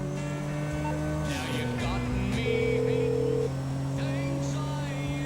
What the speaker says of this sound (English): Jump in the car, and drive to the waypoint in Paleto Bay.